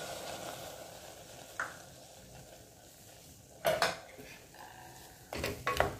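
Milk poured into grated carrots for gajar halwa in a pressure cooker over a low flame, with a soft steady sizzle and several clinking utensil knocks against the pot.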